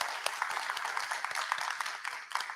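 An audience at a closing plenary session applauds a panel, fairly quiet but distinct individual claps standing out within a steady spread of clapping from a modest crowd.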